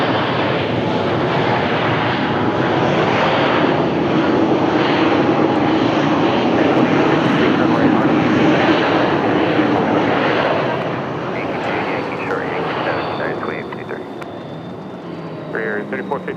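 An Airbus A321 airliner produces a loud, sustained jet engine roar that holds steady and then eases slightly toward the end, with radio and voice chatter faintly beneath it.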